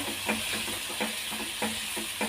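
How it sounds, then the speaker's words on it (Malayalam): Crushed shallots sauté in hot oil for a chicken fry, a continuous bright sizzle with a spoon scraping through them in short, regular strokes, close and fairly even in loudness. "ഇതൊന്ന് വഴന്ന് വരുമ്പോൾ ഉള്ളി ചെറുതായിട്ടൊന്ന് വഴന്ന് വന്നിട്ടുണ്ട്."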